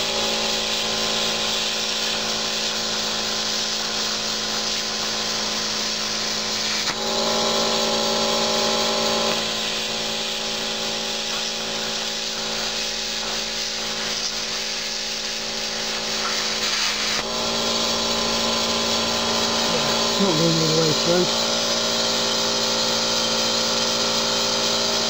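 A Lidl Parkside PPSK 40 A1 plasma cutter set to 25 amps hisses loudly and steadily for about 25 seconds as it cuts freehand, its tone shifting slightly a couple of times.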